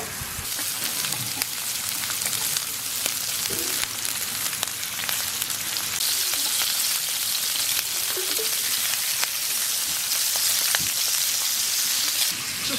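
Marinated pork slices sizzle on a Korean barbecue grill with onion and chili rings, a loud, dense, continuous crackle close up, with no talk.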